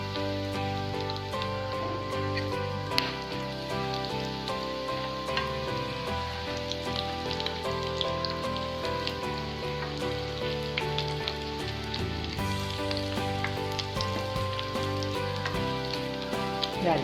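Banana flower cutlets fry in hot oil with a steady, dense sizzle and crackle throughout, close and continuous, with no voices.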